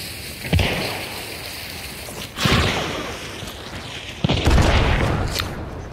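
Frag grenade blast in a PC shooter, a sharp boom with a rolling tail, followed by further heavy bursts and rumbling impacts in quick succession.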